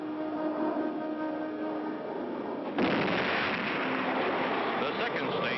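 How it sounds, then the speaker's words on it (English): A rocket's second stage drops away and its third-stage rockets ignite in a 1959 cartoon: a sudden loud, dense roar bursts in midway and holds steadily to the end, with voices present around it. "The second stage drops clear, and the third stage rockets light up."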